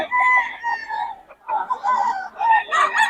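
Several roosters in Bocaue crow close by, overlapping calls rising and falling in quick succession with some clucking between them.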